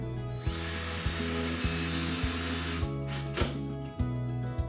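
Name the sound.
power drill driving screws into bracket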